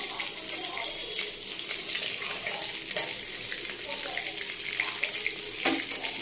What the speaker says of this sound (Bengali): দুটো শুকনো লঙ্কা দিলাম।